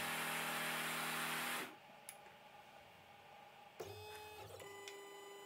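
An Ortur LaserMaster 2 laser engraver works through a stack of four 2 mm cardboard sheets, a loud steady whirring hiss that cuts off abruptly, then quieter motor whines, clicks and shifting mechanical tones close by.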